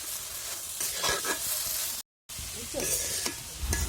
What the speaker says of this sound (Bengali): এভাবে বারবার একটু নাড়াচাড়া দিয়ে নিতে হবে